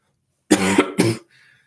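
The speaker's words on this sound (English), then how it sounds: "I'm sorry if I'm coughing so much" Two quick, close coughs in a row, loud and throaty, followed by a brief faint breath.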